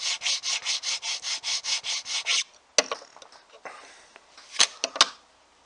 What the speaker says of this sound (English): The system comes with this little plastic scraper, and what it does is it's supposed to take any excess wax off